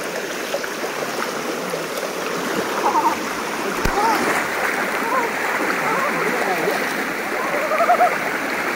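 People wade into a river with fairly deep water, making a steady wash of splashing and stirred water close by, with the flow continuing throughout and a few louder surges near the middle and the end.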